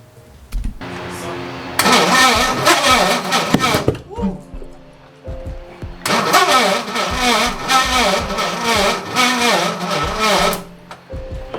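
A V8 engine swapped into a Nissan S14 cranks and catches, running loud and rough in two long bursts separated by a brief lull, with voices talking faintly underneath.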